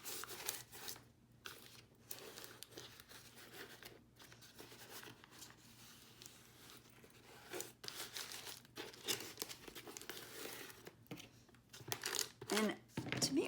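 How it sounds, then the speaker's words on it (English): A sheet of paper is smoothed out by hand for an assemblage art piece, giving close, continuous crinkling and rustling with brief pauses and a louder burst of crumpling near the end. "Smooth my paper out. Might be a little tricky with this paper."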